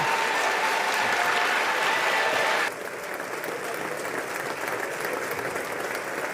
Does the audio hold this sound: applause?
yes